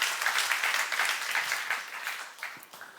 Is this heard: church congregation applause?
yes